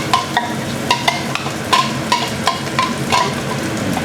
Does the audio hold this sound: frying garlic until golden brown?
yes